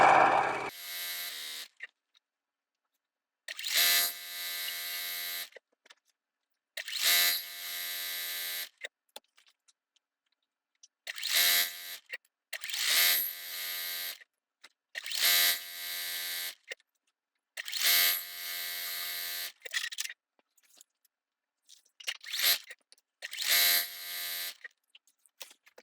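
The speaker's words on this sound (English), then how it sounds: "I'm going to put my presser foot down and put in a couple stitches" A domestic sewing machine stitches down the side of a quilt border in a string of short whirring runs, each a second or two long, separated by silent pauses, close and clear with no talk.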